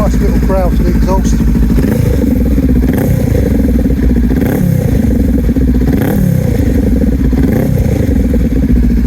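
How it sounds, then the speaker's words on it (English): A Honda CMX500 Rebel fitted with a Lextek exhaust idles and blips its throttle nearby, a loud rhythmic mid-pitched growl with repeated revs rising and falling. "Nice little growl to the exhaust."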